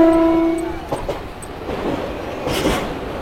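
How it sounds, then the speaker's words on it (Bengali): A Sealdah–Jangipur Road local train passes close by on an Indian rail line, opening with a loud, sustained horn blast that gives way to a steady rumble and rattling wagons. "শিয়ালদা জঙ্গিপুর রোড ট্রেনটা ক্রস করলো।"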